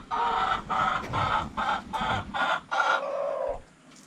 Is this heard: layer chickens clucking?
yes